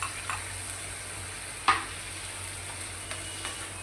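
Onions frying in a pan for a do pyaza dish, a steady soft sizzle running throughout, broken by a few light clinks of a stirring spoon, one sharper knock near the middle, with no talking.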